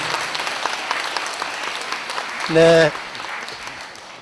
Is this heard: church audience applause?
yes